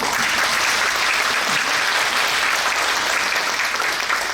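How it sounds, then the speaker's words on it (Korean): Steady, dense applause from a church congregation at an installation worship service for a new denominational general assembly president, holding loud and even throughout with no voices over it. "박수 한번 주십시오."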